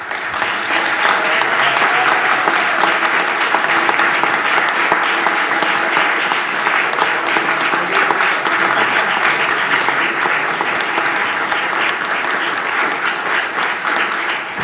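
Sustained applause from an audience at a McKinney, Texas city council meeting, loud and steady for about fifteen seconds with dense, even clapping and no break.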